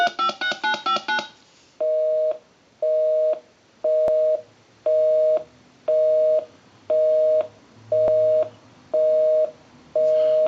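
Rapid burst of dialing tones, then a steady busy signal pulsing in even, loud beeps about once a second from a Harris TS22 lineman's butt set.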